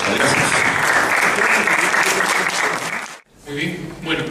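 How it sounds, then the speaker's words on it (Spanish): Loud, dense audience applause at a medical talk by an occupational physician, sustained for about three seconds before breaking off, then a speaking voice comes in. "recibamos nuevamente al doctor con un fuerte aplauso"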